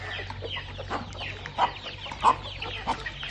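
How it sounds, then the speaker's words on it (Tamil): Several free-range country chickens cluck and murmur nearby on a farm in an irregular chorus, with a few louder clucks standing out over a low steady hum. "கீழே வந்து பார்த்தீங்கன்னா நாட்டுக்கோழிகள் வச்சுருக்காங்க"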